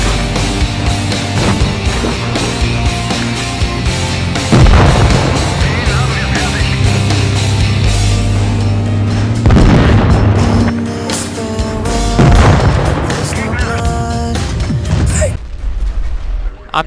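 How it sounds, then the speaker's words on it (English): Booming shell blasts from World of Tanks Blitz, the tank game, against a constant loud roar of engines and battle noise. Several heavy impacts land over the span, and a voice can be heard faintly underneath. "this guy's shooting HE at me"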